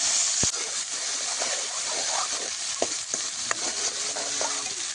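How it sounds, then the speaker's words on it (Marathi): Ground black masala frying in hot oil with cumin in a wok for a village-style potato dish, a steady broadband sizzle with a sharp tap near the start and occasional stirring clicks, close and continuous with no talk. "काळा दळलेला मसाला आपण कढईमध्ये घालून घेऊया."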